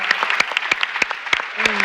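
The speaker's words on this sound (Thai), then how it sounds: "ขอเสียงปรบมือให้กับน้องๆทั้ง3คนด้วยนะครับ" Audience clapping for three young singers at a children's televised singing battle round, a steady patter of hands with sharp claps standing out, with a brief sustained tone entering near the end.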